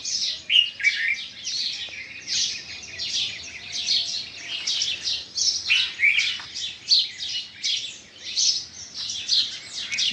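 Many birds chirp and tweet in quick, overlapping bursts, bright and fairly close, with no talking.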